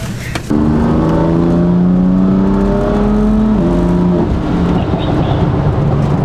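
A stage 2 tuned BMW M4 accelerates hard from inside the cabin, its engine note climbing loudly through rising revs with a brief gearshift dip, steady and close.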